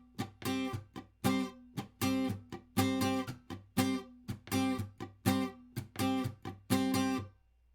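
Electric or acoustic guitar playing a song part with down-up strumming and muted chicka strokes, a steady rhythmic pattern of bright chords separated by short percussive mutes, close and clear with no talking.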